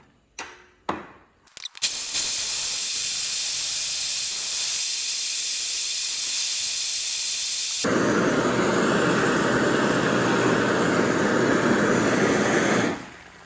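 A BRS ultralight gas stove heats 250 ml of water in a Toaks pot, starting with a few clicks before a steady roaring hiss that grows louder and fuller partway through and then cuts off sharply at the end.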